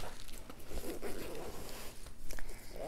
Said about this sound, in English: Zippers are really smooth too. I'm having no problem using one hand.